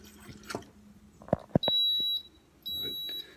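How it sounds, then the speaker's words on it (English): A heating waffle maker's timer beeps twice, two long steady electronic tones after a few clicks and splashes of water being added in a kitchen. "So if you hear that beep, that just was the timer."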